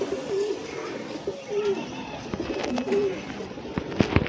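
Punjabi pigeons from a breeder pair coo in soft, repeated low rolling calls, several spaced phrases close by over faint background noise and occasional light clicks.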